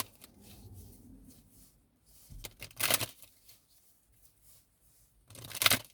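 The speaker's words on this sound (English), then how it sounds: "Just shuffle the cards." Tarot cards are shuffled in two quick riffling bursts, crisp and close, separated by quiet handling rustles.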